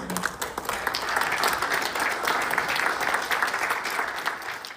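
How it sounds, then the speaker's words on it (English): Sustained round of applause from a standing audience at an event honoring veterans, dense steady clapping filling the whole stretch at an even loudness. "I'd like to ask everybody to stand up and give them a round of applause."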